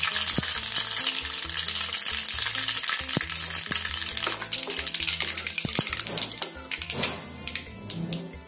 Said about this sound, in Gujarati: રાઈને એકદમ સરસ રીતે આપણે ફૂટવા દઈશું.